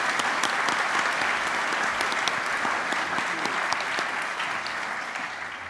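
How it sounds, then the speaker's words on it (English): Sustained audience applause at the close of an evening talk event, dense and even clapping from a large crowd filling the whole stretch with no speech. "One more round of applause for them."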